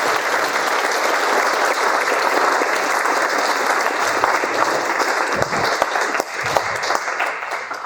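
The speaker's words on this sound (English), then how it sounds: "So maybe we'll just show a round of applause too." Wedding guests applaud in a continuous, dense round of clapping that stays steady and loud for the whole stretch, with a few louder individual claps near the end.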